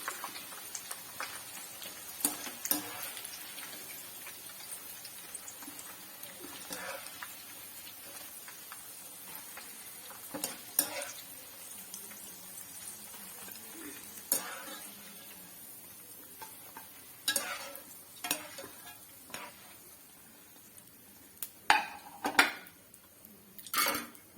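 Ivy gourd fries in a pan with a quiet sizzle while a metal spoon scrapes and clinks against it in scattered, sharp strokes over a long stretch.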